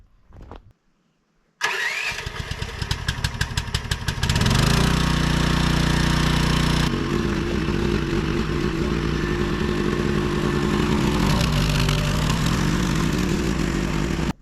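Gas-powered water pump engine at a settling pond, cranked with a few quick pulls, then catching, revving up and settling into a loud, steady running drone.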